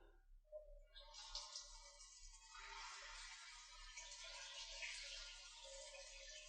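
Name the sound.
hot shower water running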